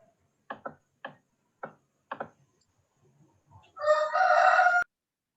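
A rooster crows nearby during a maths class, a short burst of rising clucks followed by one loud, sustained crow lasting about a second.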